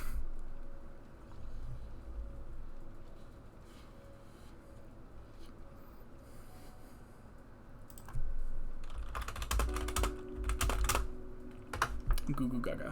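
Keys clatter on a computer keyboard during an online Pokémon battle, with soft scattered taps early and a dense burst of rapid keystrokes in the second half over low background noise.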